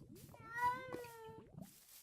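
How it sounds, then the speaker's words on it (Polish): A cat in Minecraft gives a soft, drawn-out meow that rises and falls, heard alone and fairly quiet over light background sound. "Jakiś kotek."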